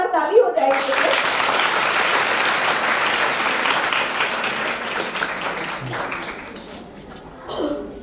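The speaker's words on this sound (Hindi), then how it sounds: "तो बच्चों, जोरदार ताली हो जाएगी।" Children at a school awards ceremony applaud loudly in a long, dense, steady burst of clapping that fades toward the end. A voice speaks briefly over a PA at the start and again at the close.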